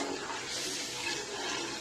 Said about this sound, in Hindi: तो पानी ये मैं डाल रही हूँ